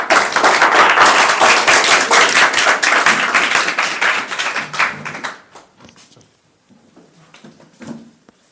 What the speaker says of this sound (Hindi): आंसू भाई जी का स्वागत करा जाए तालियों के साथ।